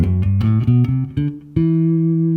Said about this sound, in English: A natural minor scale sounds like this.